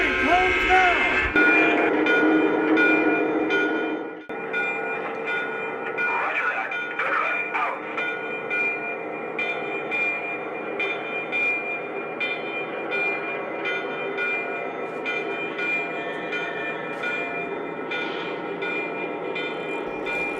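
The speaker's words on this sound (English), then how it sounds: "Southern Railroad is very proud to bring us this very special train. Look, here it comes now!" A Lionel model train rumbles steadily past at a model railroad club, a continuous mechanical hum and clatter with a brief whistle-like tone near the start.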